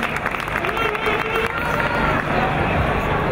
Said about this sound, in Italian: Un applauso a Sabrina, anima del carnevale.